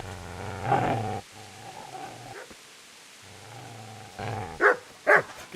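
Dog in the medieval game Kingdom Come: Deliverance, giving a burst of barks and a low growl, then a pause before two more sharp loud barks close by.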